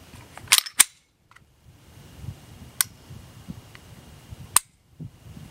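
Trigger clicks from a Springfield XDM service pistol: several sharp, dry snaps spaced unevenly over a few seconds, close and fairly loud against a quiet, low background rumble.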